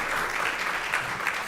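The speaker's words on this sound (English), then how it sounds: "Give him a round of applause." Audience clapping at an awards gala in Baltimore, a brief, fairly soft burst of applause from a seated crowd, steady and unbroken with no voices over it.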